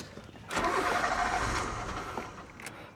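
A VW Polo engine cranks and catches with a loud burst, runs roughly for a couple of seconds, then falters and cuts out, ending in a brief sharp clunk.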